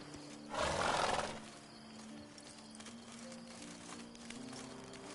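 Roach, a horse in The Witcher 3, is ridden with a short burst of loud whinnying or snorting near the start, followed by quiet steady hoofbeats at low level.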